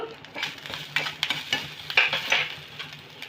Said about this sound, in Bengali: মশলাটা যেন পুড়ে না যায় সেই জন্য একটু একটু করে জলে ছিটা দেবো আর ভেজে নেব